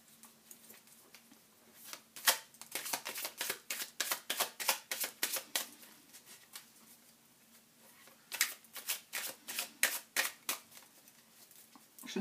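Tarot cards are handled and drawn, giving fast flurries of crisp flicking and riffling that come in two long bursts separated by a quieter pause, close and clear, with no talking.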